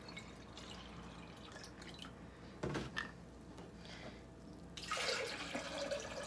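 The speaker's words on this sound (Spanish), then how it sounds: "Aquí se va a poner otra taza y media de agua para seguir moliendo" Water poured from a cup into a blender bowl while making a green juice with spinach, a soft trickling and dripping splash that swells near the end, fairly quiet and close.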